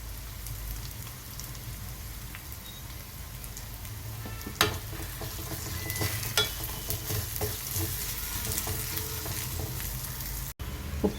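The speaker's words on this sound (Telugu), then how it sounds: "మసాలా ఇలా ఆయిల్లో బాగా ఫ్రై అయిన తర్వాత ఇందులో కొద్దిగా పసుపు, కారం, ఉప్పు వేసుకోవాలి." Masala seasoned with turmeric, chili powder and salt sizzles steadily in hot oil, with soft stirring scrapes and a few sharp clinks of a utensil against the pan, heard close and alone without talk.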